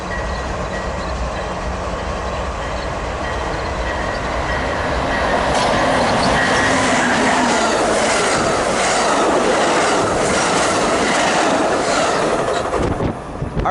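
Passenger train 586 bound for San Diego, with a lounge car, rolls past at Commerce: a loud, close, steady rumble with rhythmic clickety-clack of wheels over rail joints throughout, swelling slightly midway, with no voices.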